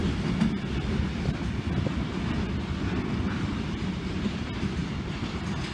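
Class 66 locomotive 66003 hauls a train past at Salisbury, a steady, close, broadband rumble and roar that holds for the whole stretch with wind buffeting the microphone.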